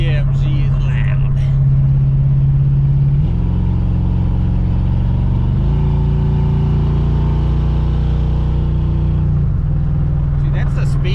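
A loud hot rod car engine holding around 4,000 RPM, a strong droning roar that steps up and down in pitch over several seconds, heard close with a voice talking over it.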